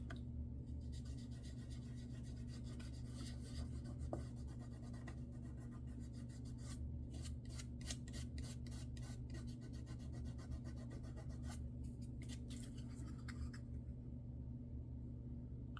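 Hand rubbing on a craft piece gives a soft, steady scraping friction over a low background hum, faint and continuous with brief rasping bursts.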